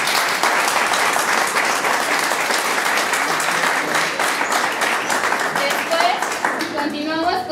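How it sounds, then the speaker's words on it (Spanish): Strong applause from a school audience at a secondary school play cast introduction, dense continuous clapping for several seconds, with voices and cheers mixed in toward the end. "Un fuerte aplauso,"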